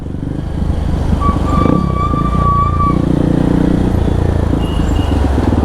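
Kawasaki KLX motorcycle fitted with a loud aftermarket exhaust, a close, loud, rough engine drone running steadily, with a brief high whine or horn-like tone partway through and road noise beneath.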